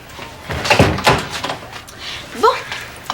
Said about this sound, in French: Tu peux fermer la porte, Rose?